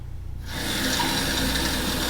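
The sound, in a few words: water poured into a bag of rice for cooking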